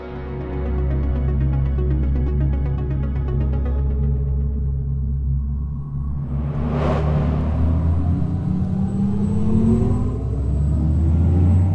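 An Audi RS e-tron GT plays its synthetic e-tron Sport Sound through exterior and interior speakers, a deep humming drone that swells and rises in pitch with acceleration, with a whooshing burst in the middle and no talk.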